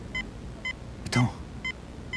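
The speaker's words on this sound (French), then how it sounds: "un bip strident le fit sursauter" Short high electronic beeps repeat faintly at regular intervals, with one louder shrill burst in the middle over a low background murmur.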